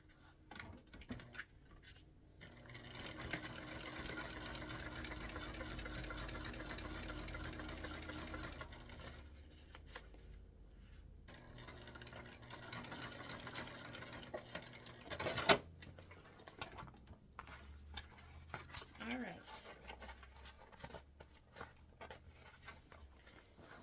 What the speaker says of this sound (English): We're going to make one more stitch a little bit closer to the interfacing.